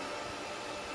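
A robot vacuum cleaner running around indoors, giving an even, continuous whirring hiss at moderate level, heard alone without speech.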